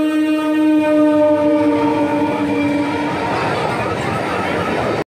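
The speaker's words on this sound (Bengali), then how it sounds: "এটা হচ্ছে 7টা 10-এর সুভাষগ্রাম থেকে বারুইপুর লোকাল।" A crowded Sealdah–Namkhana line local train at Baruipur station sounds a loud, close, sustained horn for several seconds, then rumbles on over a heavy wash of rail and engine noise.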